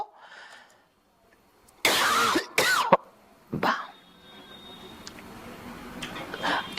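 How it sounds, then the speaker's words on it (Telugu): A person coughs and clears their throat a few times in the middle, with loud separate bursts against a quiet room. Faint talk is heard before and after. "ఈ దగ్గు కూడా ఎడిటింగ్లో వేయకండి"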